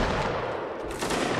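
Massed musket volley fire in a Napoleonic Wars line battle in Mount & Blade: Warband, a dense, continuous crackle of many shots blending into one loud, sustained roar.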